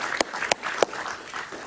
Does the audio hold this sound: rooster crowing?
no